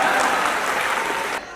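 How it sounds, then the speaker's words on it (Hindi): An audience claps after a comic Hindi poem is recited, a short burst of dense, even applause that cuts off abruptly near the end. "कविता खत्म, ताली बजाओ।"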